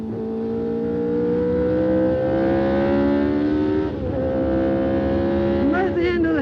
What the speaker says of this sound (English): Accelerating hard, down into second gear